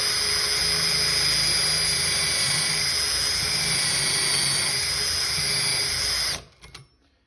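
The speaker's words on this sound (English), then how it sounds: "Simply just set your drill for high." A high-pitched power drill whines steadily at close range for about six seconds, set on high speed while boring pocket holes with a pocket hole jig, then cuts off abruptly, leaving brief clattering.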